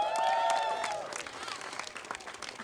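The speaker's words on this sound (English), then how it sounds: "Let's give that a cheer." Audience at a Domestic Violence Awareness Month launch event breaks into loud applause and cheering, with a few whoops rising early before the sustained clapping continues steadily to the end.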